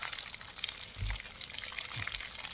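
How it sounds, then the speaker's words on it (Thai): Water running while fresh peaches are washed, a steady close splashing stream with a couple of soft low thumps as fruit is handled under it, no talking. "ก่อนกินเราต้องล้างก่อนนะคะ"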